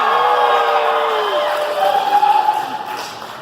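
A convention panel audience at an anime event cheers and whoops loudly, a dense crowd roar with a few sustained shouts rising above it, applause mixed underneath.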